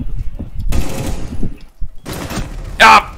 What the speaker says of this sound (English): I shot your dead body by accident.